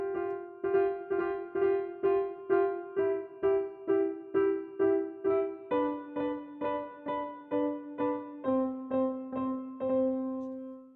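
Piano notes struck with both hands together, each chord repeated six times in a steady even pulse, the pattern stepping lower partway through, played clearly and alone with no talking.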